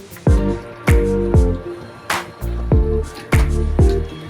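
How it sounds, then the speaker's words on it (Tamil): Washed, drained mutton pieces tumble into a cooking pot in several soft wet thuds and squelches, spaced about half a second apart, close and moderately loud with no talking. "நல்லா கறியை வாஷ் பண்ணிட்டு தண்ணி வடிச்சதுக்கப்புறம் நல்லா போட்டுக்கலாம்."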